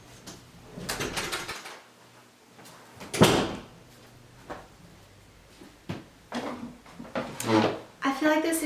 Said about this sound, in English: I have to close my door